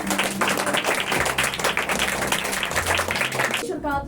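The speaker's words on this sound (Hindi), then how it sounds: "जोर से ताली बजाएंगे।" A congregation at a Christmas church service claps loudly in a fast, steady rhythm while a voice carries on over the crowd, with the clapping dropping away just before the end.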